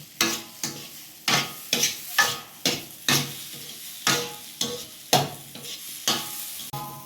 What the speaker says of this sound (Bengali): নাড়াতে থাকবেন যতক্ষণ না ঘি এর মধ্যে থেকে বেরিয়ে আসে।